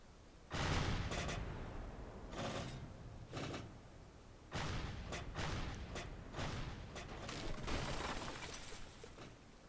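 Ship cannons firing during a pirate ship battle in a video game: several loud, sharp booming volleys spaced out in uneven bursts, some clustered rapidly, heard close with no talking.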